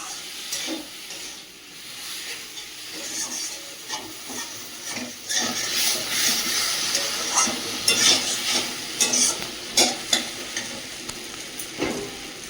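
A colocasia curry cooks down in a pan, a loud steady sizzle with frequent scraping stirs and clacks that grow busier toward the end; no speech.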